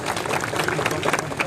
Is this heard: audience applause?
yes